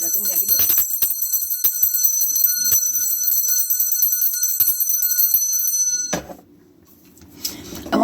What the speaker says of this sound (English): I'm introducing my bell. I'm going to clear out our energy and make sure there's nothing negative.